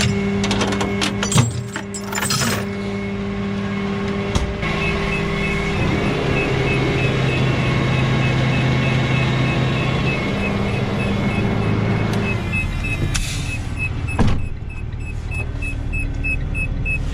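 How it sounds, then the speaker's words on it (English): A tow truck's power take-off runs in a steady mechanical drone with a sustained tonal whine, broken by a few sharp clanks and knocks near the start and again later, with no voices. "I'll shut the PTO off because I don't want to keep hearing that"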